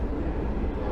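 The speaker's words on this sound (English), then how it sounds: "See, that's a train, but that's not our train." A train rumbles steadily past at Turkistan railway station in Kazakhstan, a close, continuous low roar with no voices.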